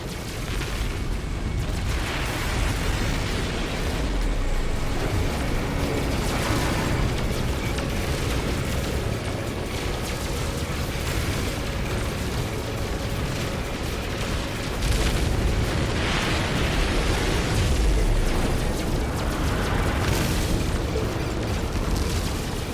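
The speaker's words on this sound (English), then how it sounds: "Enemy missile inbound." Heavy booms and rumbling blasts from enemy missiles and anti-ship turrets in a No Man's Sky space battle, loud and continuous, with stronger explosive bursts recurring over a dense mechanical roar.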